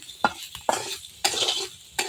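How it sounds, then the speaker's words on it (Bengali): A mashed bharta fries in oil while a spoon stirs it in the pan, with four distinct scraping strokes over a continuous close sizzle. "এভাবে নেড়ে চেড়ে একদম পোড়া পোড়া করে নিতে হবে"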